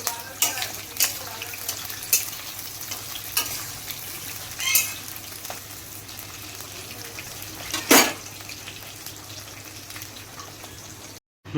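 Capsicum and paneer frying in a pan, a steady low sizzle with scattered scraping stir strokes and clinks from close by, one louder scrape near the end before a sudden cut.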